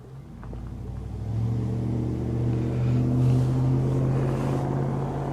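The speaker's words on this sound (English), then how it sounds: "there's this truck that pulled up behind me" A truck rumbles close behind on a snowy roadside, its steady low engine drone swelling as it pulls up and idles nearby, with no voices.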